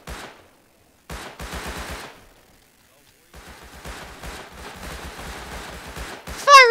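Rapid bursts of automatic gunfire in the survival game Rust crackle in two clusters separated by a brief pause, loud and close, with voices calling out amid the shooting.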